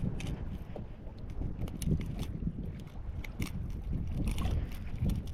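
Strong wind gusting over open sea around a small boat, a continuous low rushing roar with buffeting and flutter, loud and close, steady throughout with no talking.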